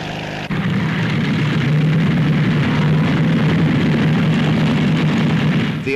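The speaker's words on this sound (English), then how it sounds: "Scottish Aviation showed the twin Pioneer, which can take off with a 100-yard run." A Scottish Aviation Twin Pioneer, a 14 to 16 seat twin propeller transport, flying at an air show: loud, steady droning engine roar that holds evenly throughout.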